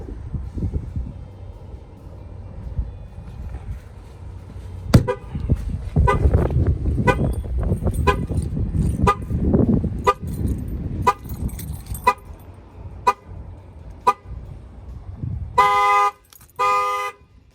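A Chevy Impala alarm with an added shock sensor goes off after knocks on the glass. Loud, evenly spaced horn blasts repeat for several seconds over a steady car hum, ending in a quick run of electronic siren chirps.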